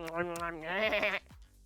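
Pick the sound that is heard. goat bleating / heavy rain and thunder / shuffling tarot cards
goat bleating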